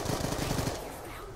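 AK-47 firing in Black Ops 2 Zombies, a rapid burst of loud close automatic shots that stops partway and leaves a fading rumble.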